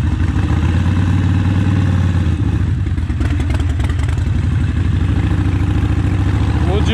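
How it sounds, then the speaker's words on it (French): A Harley-Davidson Forty-Eight motorcycle engine runs close by with a loud, lumpy, throbbing exhaust beat that continues steadily throughout, with some rattling clatter mixed in. "on dirait un canard sur une moto"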